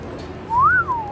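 A person whistles a single short note that slides up and then back down, heard alone over a low background hum.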